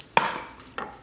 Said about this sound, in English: So we're going to go to the grape tomatoes, cut these in half.